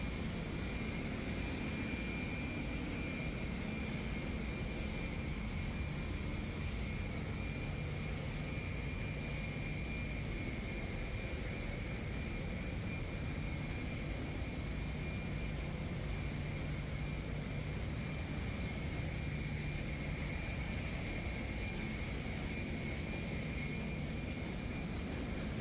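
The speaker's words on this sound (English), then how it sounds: "Here you'll find 3 Yanmar diesel generators." Three Yanmar diesel generators run inside the engine room of a bulk carrier ship, a steady, loud mechanical drone with constant tonal whine throughout, no voices.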